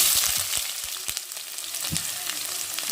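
Finely chopped onions fry in a hot pan, a steady broadband sizzle with a few sharp clicks of stirring near the start, close and loud throughout.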